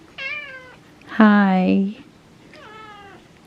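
A cat meows three times at close range. The middle cry is the longest and loudest, and a person gives short greetings between the meows.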